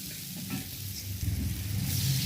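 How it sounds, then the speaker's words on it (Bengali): A frying mixture, splashed with a little water, is stirred around a pan: a steady close sizzle with soft scraping that grows slightly louder toward the end. "ভালো করে মিশ্রণটি মিশাতে হবে"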